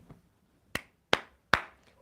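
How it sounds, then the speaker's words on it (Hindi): Three sharp, separate hand claps ring out at uneven intervals during a devotional talk, each loud, close and dry with a quick decay, with quiet in between and no talking. "ये जो ताली बज रही है कितनी देर लगी"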